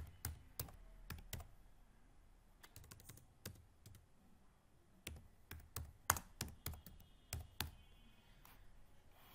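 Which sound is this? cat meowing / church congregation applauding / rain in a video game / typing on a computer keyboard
typing on a computer keyboard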